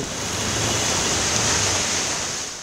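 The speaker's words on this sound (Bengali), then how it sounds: "টানা বৃষ্টির সাথে ঝড়ো হাওয়া নাকাল রাজধানীবাসী।" Heavy, steady rain driven by stormy wind over Dhaka, a dense continuous hiss with a low rumble, loud and unbroken without any voices.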